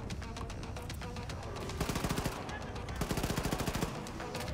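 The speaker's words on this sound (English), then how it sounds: "Oh man, he got a laser gun." A laser gun fires in rapid bursts in Wolfenstein II: The New Colossus, heard as repeated sharp automatic shots over dense game noise and music, loud and continuous.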